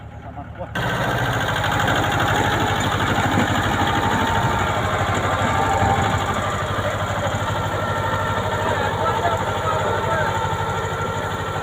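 A small Mahindra mini tractor engine starts up and runs steadily with a constant chugging drone, loud and close, never stopping.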